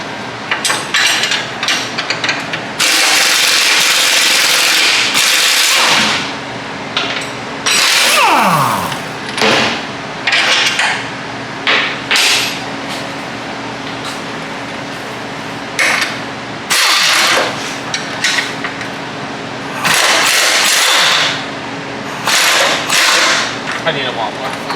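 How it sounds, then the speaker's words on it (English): Air impact gun driving out suspension bolts on a station wagon during engine removal, heard as repeated loud bursts of rattling hammering with short pauses between, with voices talking at points. "grab the air gun here, and we're going to pop out these two bolts and these two bolts"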